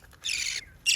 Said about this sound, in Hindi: ये तोती है, जो दूसरा है ना वो तोता है।